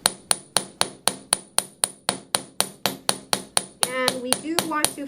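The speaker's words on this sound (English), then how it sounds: "Then you just start hammering." Sharp, evenly spaced metal hammer strikes ring out on the tip of silver wire resting on a steel bench block, about a dozen crisp blows followed by a quicker ringing flurry.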